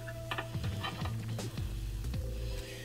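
Steak and potato kabobs cook on a Ninja Foodi Smart XL grill, giving a faint, soft sizzle beneath a steady appliance fan hum, with a few light ticks and clicks.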